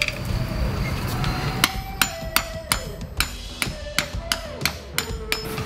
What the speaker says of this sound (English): I like to use a nice big hammer like this, and then a bearing race or seal setting tool like this.